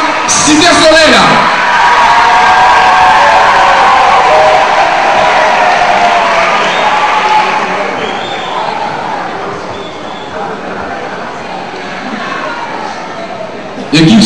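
A crowd at a Cité Soleil team event gives a loud, sustained roar of cheering, whoops and clapping that swells early, holds, and then eases slightly, with a brief burst at the very end.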